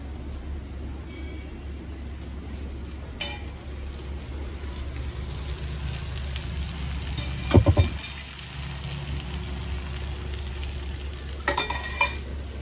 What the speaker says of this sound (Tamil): கொஞ்சம் அரை ஸ்லோலேயே வச்சு வறுக்க வேணும்